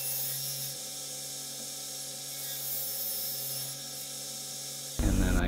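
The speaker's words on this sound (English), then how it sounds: "I'm just squaring that up on the table saw sled" A table saw on a crosscut sled trims a glued-up plywood measurement block to size: a steady high whine holds for about five seconds before a louder, rougher burst near the end.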